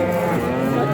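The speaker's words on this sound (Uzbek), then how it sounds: "Katta sigir jonivor." A large, pregnant Angus cow moos loudly and close by at a busy livestock market in Shahrikhon; one sustained, deep lowing call with no talk.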